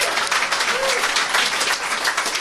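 A podcast audience applauds in a live room, a dense, loud and sustained clapping throughout, close by, with no clear talk over it.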